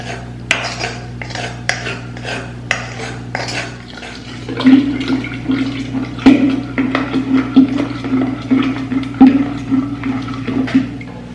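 Grape and sugar mixture for homemade grape wine poured into a container, a few light clinks of glass or utensils at first, then a steady close trickle of liquid with soft knocks and no talking.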